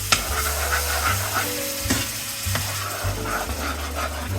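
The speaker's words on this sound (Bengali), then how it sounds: "এবার মিক্সড করা যে সর্ষে টক দই যেটা ছিল সেটাকে এখানে আমি ঢেলে দেবো" Mustard and sour yogurt poured over prawns frying in a pan make a steady, loud sizzle up close, with scattered stirring scrapes and clinks throughout.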